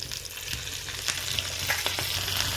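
Cumin, green chili and curry leaves sizzle in hot ghee, a close, steady frying hiss broken by occasional scrapes and stirring clicks, with no voices.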